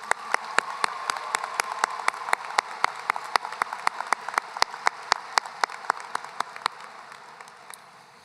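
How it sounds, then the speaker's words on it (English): Crowd applause at a high school graduation ceremony, with a steady bed of clapping and sharp individual claps standing out in a fairly even rhythm before it fades. "Let's give one last round of applause for Piper and Mia."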